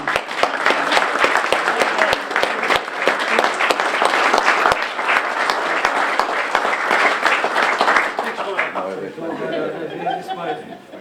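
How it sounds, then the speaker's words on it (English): A big round of applause from the audience at an honorary life member presentation, dense steady clapping for about eight seconds that then tapers off into scattered claps and murmuring chatter. "All we need now is a big, resounding round of applause."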